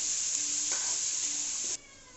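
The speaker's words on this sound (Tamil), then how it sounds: "வெங்காயம், நல்லா வறுத்துக்கலாம்." Sliced onions sizzle steadily in hot oil in a pan for crab kulambu, a bright continuous frying hiss up close that drops off sharply near the end.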